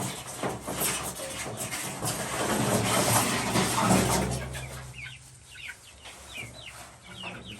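A broad rushing noise fades out, leaving chickens clucking and peeping nearby in short scattered calls as they come out into a new coop.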